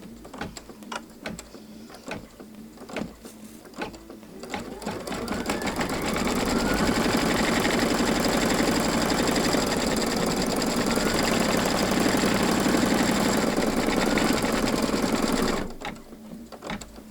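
Sewing machine stitching down a bunny pillow wrap appliqué held in a hoop, a few short bursts of needle clatter, then a long loud steady run of rapid stitching close by that stops near the end, with no talking.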